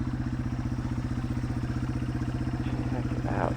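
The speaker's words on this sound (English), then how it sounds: "What a cool little bike" A Yamaha TW200 motorcycle rides a sandy trail, its single-cylinder engine putting out a steady, close, rhythmic thumping drone throughout, with a brief voice breaking in near the end.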